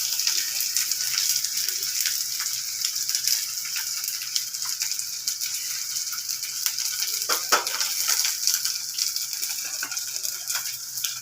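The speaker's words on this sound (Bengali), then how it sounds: "পেঁয়াজটাও ভাজা ভাজা হয়ে এসছে।" Onions sizzle and fry in a pan while being stirred, a steady crackling hiss with scattered scraping and clinking spatula strokes, close and fairly loud, with no talking.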